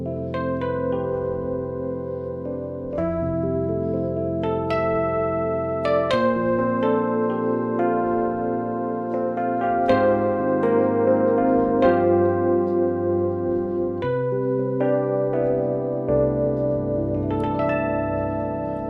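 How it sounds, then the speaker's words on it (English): Fender Rhodes electric piano played alone at moderate volume, with bell-like tines ringing out in a series of sustained chords and melodic notes that decay slowly into one another. "Now, that is an electric piano sound."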